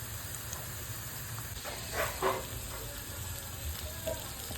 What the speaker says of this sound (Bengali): এবার সাদা তেলের মধ্যে পেঁয়াজ কুচি, রসুন কুচি আর লঙ্কা কুচি দিয়ে দিব।